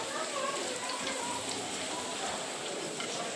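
Light rain has fallen steadily for hours, and it makes an unbroken even hiss for the whole stretch. It is moderately faint and constant in level, with no distinct drops standing out.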